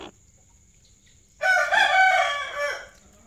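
A hen sitting on eggs in a cage lets out a single loud drawn-out call lasting about a second and a half, close by, over a quiet background.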